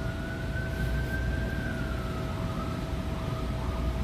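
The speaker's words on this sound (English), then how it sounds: "That's all you hear around here in DC is sirens all day." Emergency vehicle sirens wail through Washington DC streets, a rising and falling tone that carries over dense, rumbling city traffic noise, heard at moderate distance with no speech.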